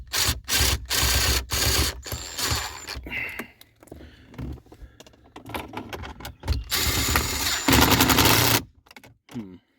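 A ratchet tightening a bolt on the gear shifter of a 2010 Ford F150, rapid clicking bursts in several runs with pauses between, loud and close.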